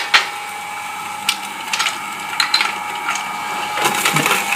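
A slow juicer grinds nuts and flax seeds into nut butter, giving off scattered clicks, knocks and grinding rattles that recur irregularly at close range with no talking.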